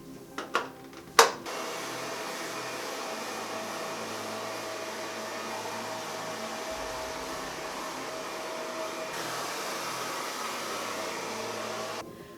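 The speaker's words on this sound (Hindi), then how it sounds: "सेफ्टी साइड पे ना वो करो, इस पे ड्रायर फेरो" A hair dryer blows steadily on hair for about ten seconds after a few sharp clicks, a loud continuous whoosh with no talking.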